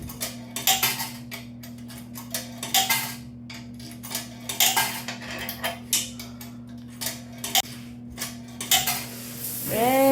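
Dishes being washed at a campground in Shenandoah National Park, with intermittent clinks and clatters of pots, plates and cutlery over a steady low hum, close by and without speech.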